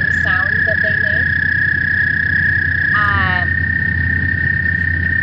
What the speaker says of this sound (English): most often find upland in your gardens are the toads. Kind of creepy horror movie sounding sound that they make.